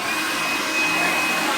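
A handheld blow dryer running steadily at close range while drying hair, a constant loud whooshing hiss with no pauses and no talking.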